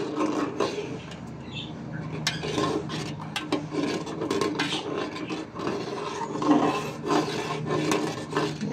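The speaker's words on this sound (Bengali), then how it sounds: "কাস্টার্ড পাউডার দেওয়ার সাথে সাথে কিন্তু নাড়তে হয়, না হলে এটা কিন্তু একদম খুব দ্রুত ঘন হয়ে যাবে।" Custard powder being stirred into milk in a pot, a continuous close scraping and rubbing of the spoon against the pan with steady rhythmic strokes throughout.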